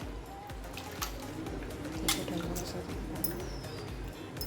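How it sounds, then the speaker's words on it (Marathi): Quiet wet squishing and dripping as soaked urad dal is rubbed by hand in water, with someone talking softly over it. "आपण तिच्यात आता पाणी टाकूया पाणी टाकल्यानंतर अजून एक दोनदा चोळून घेऊया"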